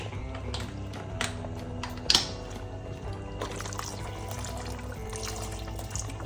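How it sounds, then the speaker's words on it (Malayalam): Rose water is poured into a pot of Thalassery-style fish biryani, a soft trickling splash amid faint kitchen clatter and metallic clicks, fairly quiet and close. "ഇനി പനിനീര് ഒഴിക്കുന്നുണ്ട്"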